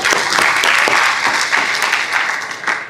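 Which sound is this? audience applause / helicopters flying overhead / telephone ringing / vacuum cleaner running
audience applause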